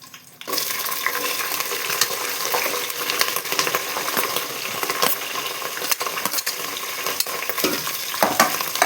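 Green chillies fry in hot oil with cumin and dried red chillies, a loud sudden sizzle that settles into a dense continuous crackle with occasional stirring clinks, close and without talk.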